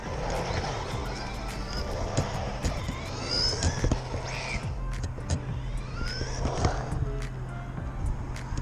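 RC car with carbon steel drive shafts driving on rough ground, its motor whining and rising in short bursts at moderate distance, with a person talking over it and scattered clatter.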